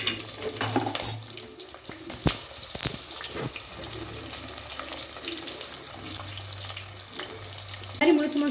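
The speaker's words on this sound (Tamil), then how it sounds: "இது ஆனியன் நல்லா டீப்பாக ஃப்ரை ஆகணும்" Whole small onions fry in oil for a fish curry, giving a steady close sizzle with intermittent scraping stirs and clatter, no voices.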